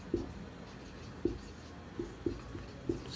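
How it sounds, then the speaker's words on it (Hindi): Chalk or marker taps and scratches on a board during a history lecture on Rajasthan, with five short, faint strokes spaced unevenly over a low background hum and no speech. "तो ये बात भी हम यहाँ लिख लेते हैं"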